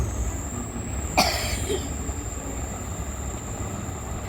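A single short cough rings out near the start, close and distinct, followed by quiet background hum with a steady high whine.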